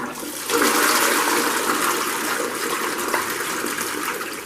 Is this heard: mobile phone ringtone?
no